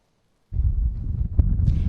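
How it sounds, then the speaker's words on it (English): Wind gusts buffet the microphone at Mitchell Park, an outdoor baseball park, arriving suddenly after a silent half second as a loud, steady low rumble that continues to the end. "It is a windy one out here"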